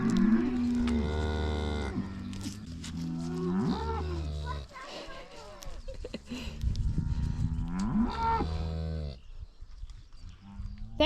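A dairy cow that has just calved on a small family farm gives several long, deep, loud moos in a row, each rising and then falling, with short pauses between them.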